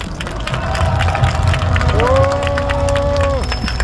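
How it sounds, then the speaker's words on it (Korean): Crowd clapping and cheering at an outdoor rally for bereaved families, sustained applause with a voice calling out over it partway through. "따뜻한 박수 다시 한번 크게 보내주십시오"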